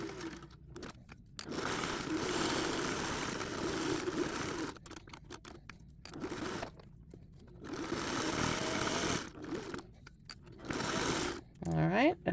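A sewing machine runs in several bursts while stitching a seam on a fabric needlebook, its whirring motor starting and stopping with short pauses between, close and fairly quiet.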